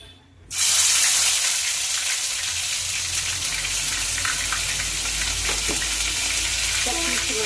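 Masala for an egg and potato curry fries loudly in a pan, a steady dense sizzle that starts abruptly after a short quiet moment and carries on with faint scraping stirs.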